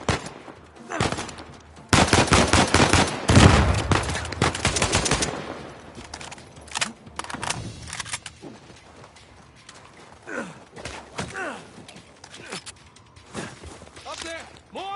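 Sniper and automatic gunfire in an Uncharted 4 firefight: dense rapid bursts of loud, close shots cluster early, then scattered single reports and clatter follow, with shouting voices over the action.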